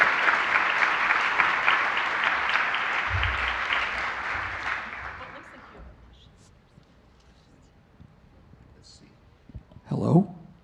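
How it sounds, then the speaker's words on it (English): An audience at a university lecture series breaks into loud, dense applause that fades out over about six seconds, leaving quiet room noise before a brief bump near the end. "a big round of applause for Wende."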